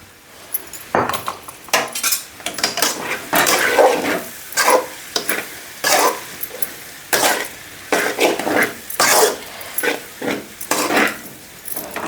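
Brinjal and prawn curry with chilli powder cooking in oil in a pot, heard as loud, repeated scraping and clattering of a spoon against the metal, in irregular bursts over a low sizzle.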